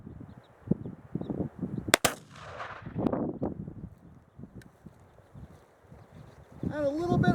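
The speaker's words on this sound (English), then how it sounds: "Had a little bit of a hang fire there. I shot just under." A .50 caliber CVA Mountain Rifle muzzleloader fires with a hang fire, giving one sharp, loud blast near the start, followed by a trailing report, while someone talks before and after the shot in open outdoor air.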